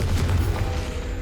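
Confringo explosive spell cast in the video game Hogwarts Legacy, a short deep booming blast that rumbles low and fades over about a second.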